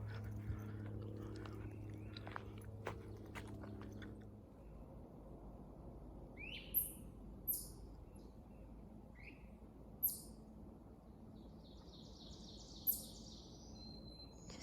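Several birds of different kinds chirp and call in short, bright bursts against a quiet outdoor hush on a sunny marsh trail. Low rumbling sound fills the first few seconds before fading.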